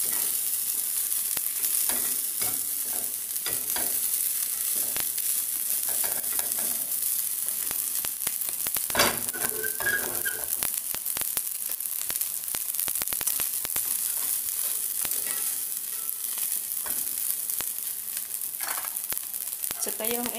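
Rice with dried anchovies sizzles and fries in a pan while being stirred, a constant close hiss with occasional scraping and clatter.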